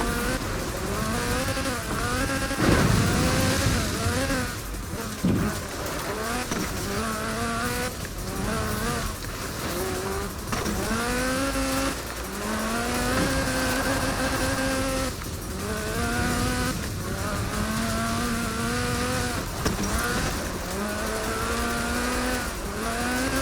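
A 1979 Lotus Sunbeam races in Forza Horizon 4, its engine buzzing high and rising through repeated gear changes, with a brief tire squeal, and no talk.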